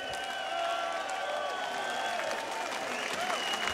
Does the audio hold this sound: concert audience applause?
yes